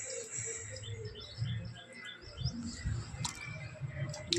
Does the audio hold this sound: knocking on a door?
no